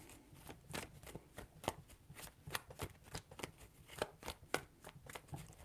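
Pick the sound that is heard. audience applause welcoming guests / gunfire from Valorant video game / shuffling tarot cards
shuffling tarot cards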